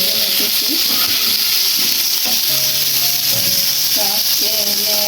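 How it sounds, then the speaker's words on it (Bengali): Potatoes frying in a pan for egg biryani, a loud, constant close sizzle and hiss with intermittent scraping stirs and tonal clinks throughout. "এখন একটু কিছুটা আলু ভেজে নিতেছি।"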